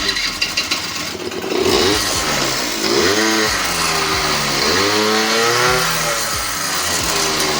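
A Honda Tact AF51 scooter engine starts and runs alone, revving up and down in repeated rising and falling bursts with a buzzy small-engine note, close and loud.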